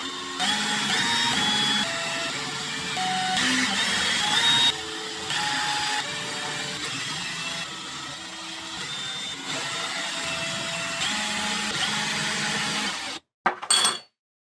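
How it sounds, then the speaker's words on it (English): A small power drill spinning a cotton swab to clean drum set parts whirs steadily and continuously at high speed, its pitch shifting slightly as it works, then stops abruptly near the end. "So I've got another Q-tip in my drill and I'm starting to get at this."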